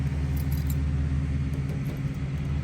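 Keys jangle lightly in short bursts over the steady low idle of a 1969 Chevrolet Chevelle with a 396 engine nearby.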